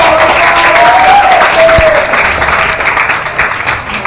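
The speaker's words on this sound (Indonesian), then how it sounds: "Tepuk tangan." Students at an Islamic school assembly applauding together, loud dense clapping from a crowd that holds steady and then thins a little, with a brief tone and a faint voice underneath.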